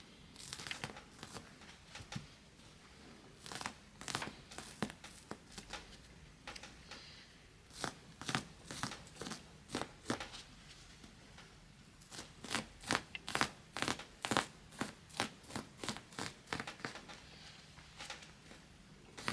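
Scissors cut upholstery material along a marked line for a custom bench seat, giving quiet, close, repeated snipping and crinkling sounds in irregular bursts that grow denser toward the end.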